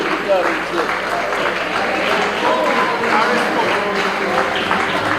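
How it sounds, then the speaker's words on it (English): Audience applause for the winning team at a schools debate championship final, a steady broadband patter of clapping that holds evenly through the whole stretch with crowd murmur mixed in. "Let's clap for their names."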